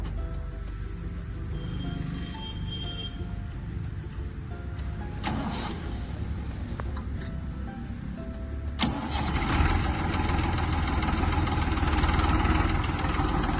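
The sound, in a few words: Massey Ferguson 1035 DI tractor engine starting and running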